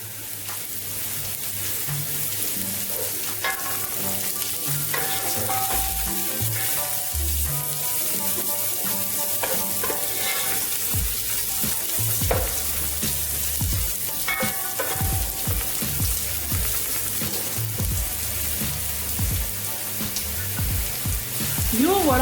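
Onions frying in a pot with garam masala and cumin seeds for a Pashto-style thick rice dish: a steady, full sizzle runs throughout, with scattered stirring clatter on top.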